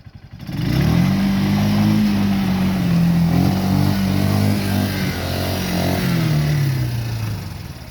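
An ATV, a Yuki 250, runs at full throttle through a river, its engine holding a loud, steady mid-pitched drone that wavers slightly under load for several seconds, close to the listener with no talk over it.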